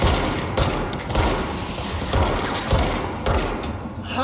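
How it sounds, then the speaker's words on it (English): Rapid bursts of gunfire from a shooter video game, several volleys of sharp shots at roughly half-second intervals, loud and dense with no talk over them. "How did I miss all those shots?"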